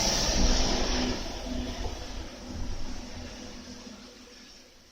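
Broad rumble of road traffic with buses passing nearby, a heavy engine drone rising and then easing away, no voices.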